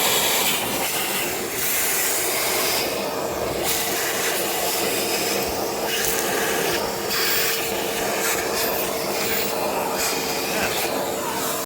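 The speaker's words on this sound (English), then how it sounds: "let's get this vacuumed up while I wait for parts" Vacuum cleaner runs steadily in the engine bay of a 2014 Honda Accord, a constant whooshing roar with uneven rattles and rustles as debris is sucked up, close and fairly loud throughout.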